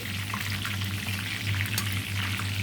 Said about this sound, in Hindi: बहुत ज़्यादा फ्राई नहीं करना, जस्ट इनको एक शाइन देनी है सब्जियों को